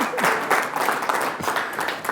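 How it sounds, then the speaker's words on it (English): A crowd claps for a woman introduced on stage at a corporate event, steady, fairly loud applause filling the whole moment with faint voices mixed in. "So let's give her a round of applause."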